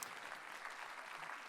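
Applause from the audience at a 2024 diploma ceremony, a steady dense patter of many hands clapping throughout, moderately loud and unbroken, with no voices standing out.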